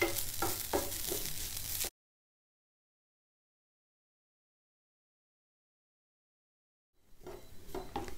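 Spices such as black pepper and fenugreek scrape and rustle as they're stirred in a dry pan for a couple of seconds, then silence until the stirring faintly resumes.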